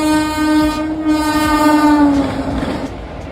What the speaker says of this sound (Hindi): ये है हमारे भोपाल का रेलवे स्टेशन और हम जा रहे हैं यहाँ से भोपाल से कालका।